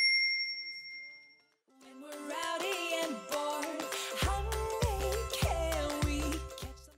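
A bright notification bell chime rings out, then fades into an upbeat music track with a steady pulsing beat.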